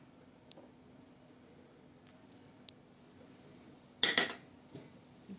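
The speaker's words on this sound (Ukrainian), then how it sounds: "перемішуємо." A spoon stirs ingredients with salt and oil in a bowl, giving a few faint clicks and then a short, brighter burst of scraping and clinking near the end in an otherwise quiet room.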